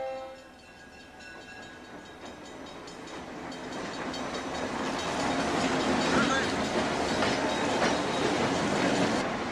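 A Grand Trunk Western GP-9 diesel locomotive runs on the mainline, its engine rumble and rolling wheel clatter building steadily louder as it approaches and passes close by, with a brief horn-like tone at the start.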